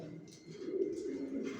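Pigeons coo steadily in a new bedding loft, a continuous low, throaty burbling of overlapping calls at moderate loudness with no talking.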